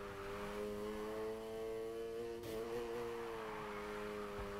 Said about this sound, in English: Slam on the gas and steer, then use the gas to power through